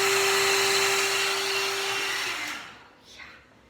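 A one-step hair dryer and styler blasts loudly on its high setting, a strong close whooshing roar with a steady motor whine that cuts off and winds down near the end.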